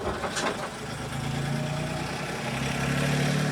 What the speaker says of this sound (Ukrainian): Тракторець хай проїде.